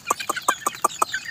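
Young backyard chickens, about two months old, cluck in a quick, even series of six or seven sharp calls, close by and loud.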